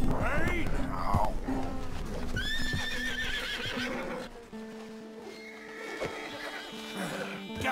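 A spooked horse in the video game Red Dead Redemption 2 whinnies loudly up close with hoof clops and snorts, while a voice talks to calm it.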